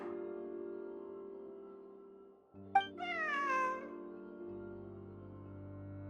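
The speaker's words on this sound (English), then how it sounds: "Wait, where did you get the cat?" A cat meows once in Genshin Impact, a single drawn-out, wavering cry rising over a soft, steady background music bed.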